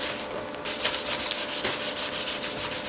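Plastic side plates from a 2013 Honda CRF 450 dirt bike are wiped with contact cleaner, giving a steady, close, rhythmic rubbing scrub that keeps going throughout.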